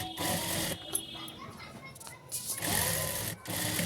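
A sewing machine runs stitches along a seat cover made from an old bedsheet, whirring loudly in two long runs separated by a short pause, with a brief lull in the middle.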